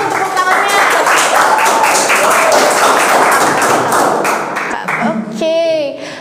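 An audience applauds at a school aesthetic festival, dense sustained clapping filling the room, while an emcee's voice and a voice rise over it near the end.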